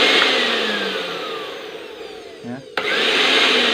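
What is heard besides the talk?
repaired Panasonic blender running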